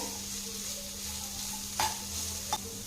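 Chopped carrot and beans are stirred in a hot frying pan, a soft steady sizzle under two sharp scraping clinks of a spoon against the pan.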